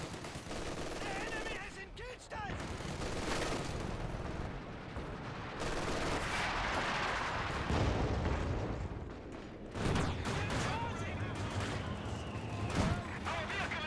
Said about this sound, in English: M1AT gun firing away. Paratroopers firing.